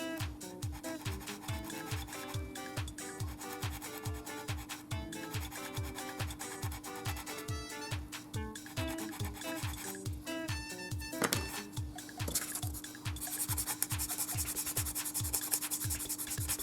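Coarse-grit sandpaper rubs back and forth on a plastic Mirage F1 model kit part in 1/48 scale, giving a steady, close rasping rhythm of quick strokes with no talking.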